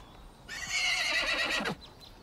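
A horse whinnies loudly and close in a western film scene, a long harmonic neigh lasting over a second, with faint hoof clip-clop beneath it and no talking.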